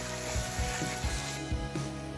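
Garlic paste with salt and ground black pepper sizzling in a pan, with a steady hiss and a few soft rhythmic scrapes as it is stirred.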